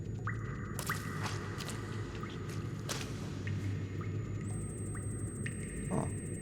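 Water drips slowly in the dark cave world of the video game Scanner Sombre, a few sharp, faint drops falling irregularly over a low ambient hum, with no talk.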